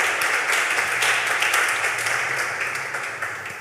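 An audience breaks into lively clapping at a French-speaking community gathering, close and full at first and then gradually fading toward the end.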